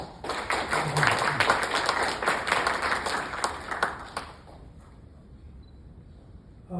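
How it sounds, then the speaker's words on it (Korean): Audience applause at a Korean labour forum on social dialogue, a steady wash of clapping from the crowd that holds for about four seconds and then dies away, leaving quiet room tone. "우리 박수 한번 크게 보내주시죠"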